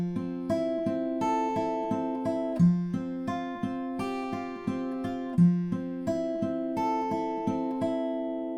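An acoustic guitar plays the fingerpicked intro of a song, with a clear repeating arpeggiated pattern of plucked notes over a steady bass note, close and solo with no voices.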